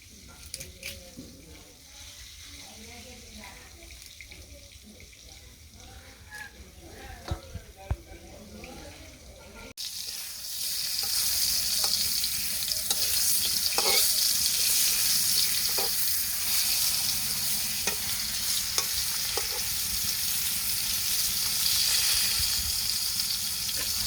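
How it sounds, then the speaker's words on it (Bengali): Eggplant slices fry in a pan for a vegetarian curry, with a quiet, close stretch of kitchen sounds giving way to a steady, loud sizzling hiss that runs unbroken through the second half. "বেগুন ভাজা হয়ে গেছে নামিয়ে নিই"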